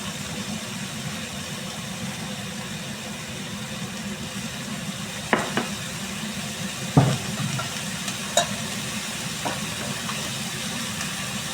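Vegetables are sautéed in a pan for a fish and potato curry, giving a steady soft sizzle and hiss with a few sharp utensil taps partway through.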